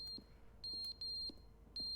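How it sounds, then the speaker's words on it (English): Fire-alarm-like electronic beeping in The Stanley Parable, with steady high-pitched tones repeating in uneven bursts, faint and thin over a low background hum, with no voices. "It's like a fire alarm."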